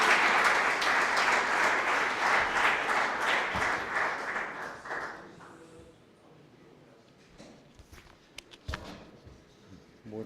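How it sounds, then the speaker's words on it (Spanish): An audience applauds to welcome a speaker at a talk on religious life, with loud sustained clapping that fades after about five seconds, leaving scattered claps, shuffling and faint footsteps. "Lo recibimos con un fuerte aplauso."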